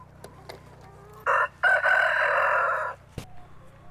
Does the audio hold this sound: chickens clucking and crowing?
yes